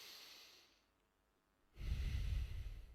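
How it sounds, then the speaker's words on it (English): A person draws a breath in through the nose, heard after a quiet pause as a close, fairly loud rush of air lasting about a second, with no talking. "when you breathe through your nose"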